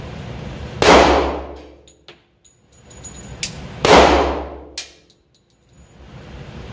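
Two sharp, loud pistol shots from a Glock model 40 firing 180-grain handloads, spaced about three seconds apart, each with a ringing decay, plus faint clinks between them.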